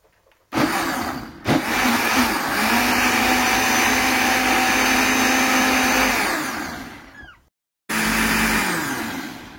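Kitchen blender whirring loudly as it purees haki paste with tomato, onion and chili, a steady motor drone that winds down, pauses briefly, then starts again.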